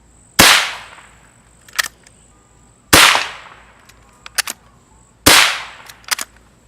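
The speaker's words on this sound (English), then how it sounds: "Okay, so that's the 22 long rifle." Three loud, sharp .22 Long Rifle shots of Federal copper-plated hollow point rounds, evenly spaced about two and a half seconds apart. Each report is followed by a faint short echo or click.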